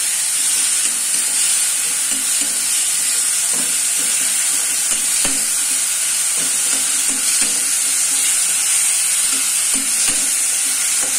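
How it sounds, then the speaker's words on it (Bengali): Amudi fish curry being stirred in a pan, with a steady oily sizzle and hiss throughout and scattered soft scraping clicks from the spoon, close and continuous with no talking. "দেখো নাড়ানাড়ি করছি"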